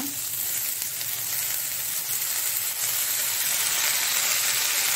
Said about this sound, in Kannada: ಈ ಎಲ್ಲ ನೋಡಿ ಸಾಸಿವೆ ಪಟ ಹೇಳ್ತಾ ಉಂಟು